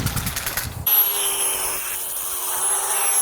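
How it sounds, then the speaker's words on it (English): A power drill boring holes for a post plate: after a short rattling lead-in, the motor whines loudly and evenly, holding a steady pitch throughout. "mark it, drill the holes,"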